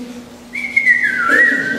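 A single person whistles one clear sustained note that bends slightly downward, heard over a low steady hum.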